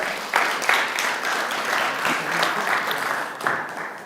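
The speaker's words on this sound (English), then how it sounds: "yeah, you got a weaker clap." A summit audience gives a modest round of applause, an even, moderate clapping that holds for several seconds with a few sharper claps standing out.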